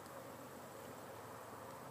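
Honey bees hum in a steady dense drone around an open hive full of bee bread and capped honey, continuous and faint with no speech.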